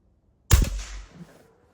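A Crosman Vapor Max air rifle fires one sharp, loud shot at close range, with a short decaying report and a faint low tail trailing off. No one speaks.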